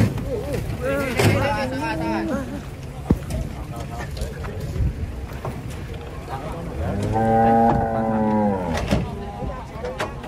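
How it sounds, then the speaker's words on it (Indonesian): Kebu cattle, just unloaded from a truck, moo loudly several times, long drawn-out lowing calls, with people talking in the background between them. "Sapi kebu ini namanya."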